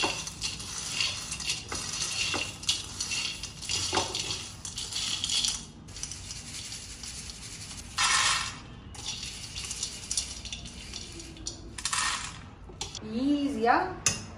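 Dry roasted peanuts are rubbed and handled by hand to strip their skins for chutney, giving close crackly rustling and small clattering knocks against a bowl, steady throughout with brief louder bursts.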